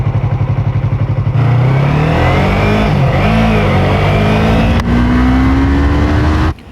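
A Yamaha MT-03 motorcycle engine pulls hard from idle, climbing steadily in pitch through a long acceleration with a brief shift, loud and close, then cuts off abruptly; no one speaks.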